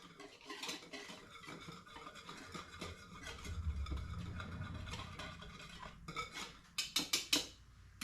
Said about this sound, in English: So I'm going to just dump this in there with my yeast and my half a teaspoon of sugar and give that a whisk.